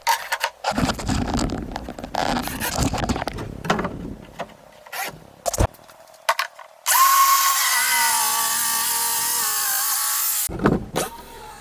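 A power saw cuts a sheet of Baltic birch plywood into strips, starting with clattering handling and short bursts, then a long steady loud whine of the blade through the wood before it stops.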